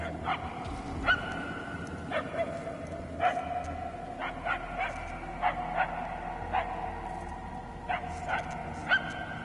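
Short, yelping dog barks repeat every second or so in Guardians of the Galaxy, moderately distant and sharp, layered over a continuous low background hum.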